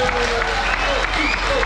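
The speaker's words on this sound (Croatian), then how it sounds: "ja veliki aplauz za njega, molim vas" A concert audience applauds a new drummer at a singer's and Banana Band gig, a dense, steady wash of clapping and crowd noise with a voice speaking over it.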